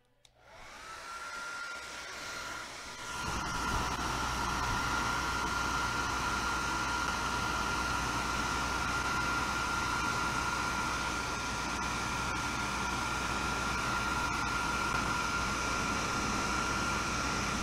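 Heat gun blowing hot air onto Oramask vinyl stencil, a loud steady roaring whoosh that starts abruptly and holds constant for the whole stretch, with no talk.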